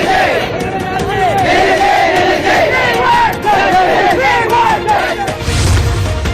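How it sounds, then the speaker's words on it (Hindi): A large crowd of protesting doctors in Shimoga, Karnataka, chants slogans together in loud, rhythmic waves, close and continuous throughout. "विशाल प्रदर्शन निकालते हुए नारेबाजी की"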